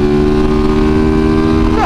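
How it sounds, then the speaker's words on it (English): A loud motorcycle engine roars close by in a deep, steady drone, its pitch lifting briefly at the very end. "The engine is so powerful."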